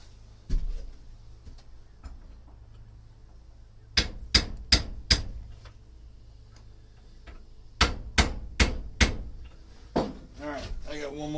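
Small metal handle pins are tapped into a handmade knife handle in a workshop, delivered as two quick bursts of four sharp taps each, with a few scattered lighter knocks in between.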